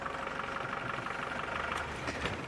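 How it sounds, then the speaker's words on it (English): A safari vehicle's diesel engine idles steadily at a game reserve, a faint, continuous low rumble with no break or change in pace. "You can see they really don't like the sound of a diesel engine"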